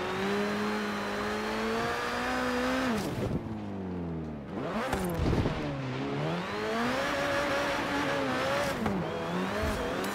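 A car in the racing game Forza Horizon 3 drives through deep snow, its engine droning steadily with rising and falling revs, sharp drops as it shifts or lifts off, and occasional skidding, loud and close with no talk.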